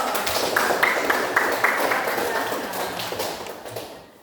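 A classroom audience applauds after a student presentation, a steady wash of many hands clapping that holds for several seconds and slowly fades out.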